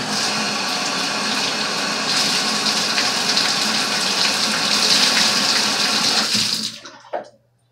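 A bathroom tap gushes steadily and loudly for about six and a half seconds while someone washes their face, then is shut off, leaving a few faint drips and splashes.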